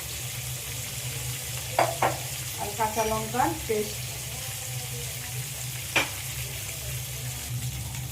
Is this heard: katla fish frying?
yes